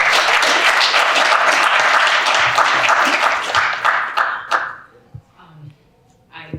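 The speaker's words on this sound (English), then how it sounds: "Clap it up." A lively audience at a fireside chat gathering claps loudly and densely, then the applause thins into scattered individual claps and fades out, with faint voices near the end.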